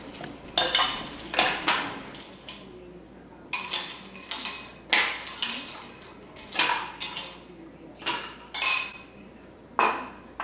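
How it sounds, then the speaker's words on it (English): Ice cubes dropped one by one into a glass of blended carrot drink, giving a series of sharp, bright clinks and clatters at a steady, uneven rhythm, close and fairly loud with no talking. "So I want to add some ice. Put some ice."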